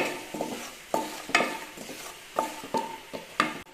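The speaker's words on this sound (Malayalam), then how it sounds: "ഇനി ഈ പൊടികളുടെ ഒരു പച്ചമണം പോണ വരെ നന്നായിട്ടൊന്ന് വഴറ്റി കൊടുത്തോളൂ" Spice powders sauté in hot oil for a mushroom masala, and a spoon scrapes through them in repeated strokes over a soft, muted sizzle.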